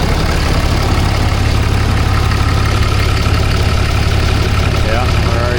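A Ram 6.7 Cummins diesel truck engine idles with the A/C running, a steady loud low rumble and drone that holds constant throughout with no breaks.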